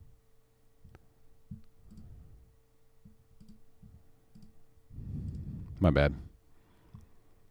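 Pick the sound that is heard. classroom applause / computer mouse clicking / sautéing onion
computer mouse clicking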